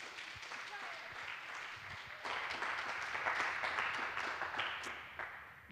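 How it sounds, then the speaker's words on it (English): A small conference audience claps for a speaker, the applause swelling suddenly after a brief quieter stretch and then tapering off toward the end. "give him a big round of applause"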